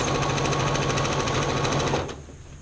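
A sewing machine runs fast and steadily, stitching two layers of fabric for a soup bowl cozy, then stops abruptly near the end, leaving a quiet room.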